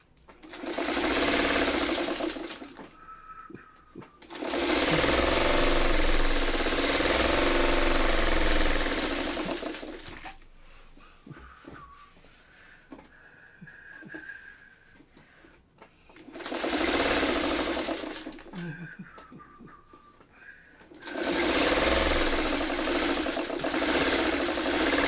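A sewing machine stitching a quilt block runs in long loud bursts with brief quieter gaps and light handling noise between them.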